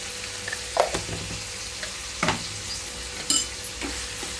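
Brinjal pieces frying in a spiced tempering with turmeric and salt give off a steady soft sizzle in a pan, broken by a few scraping stirs of a spoon against the metal.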